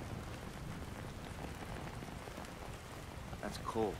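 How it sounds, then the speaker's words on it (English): Steady rain in the video game Battlefield 3, a broad continuous hiss of falling water on surfaces that holds even throughout, with faint voices and a brief electronic chirp near the end. "All that rain."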